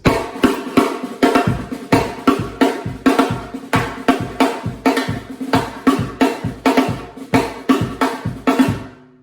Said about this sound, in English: The drum used to sound like this.